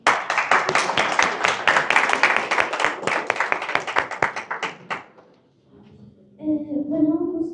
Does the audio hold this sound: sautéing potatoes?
no